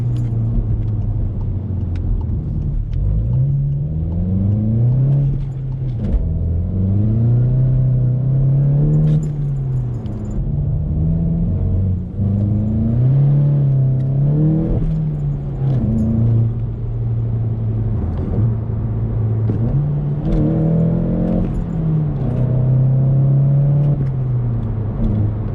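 Manual six-speed VW Golf GTI with a track exhaust, heard from inside as the engine revs up repeatedly through the gears, each rising drone dropping sharply at a shift, loud and continuous.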